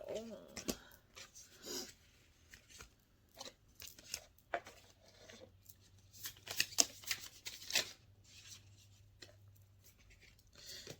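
Tarot cards being shuffled by hand in repeated soft riffling, papery bursts, close and moderately loud, with brief pauses between shuffles and no speech over them.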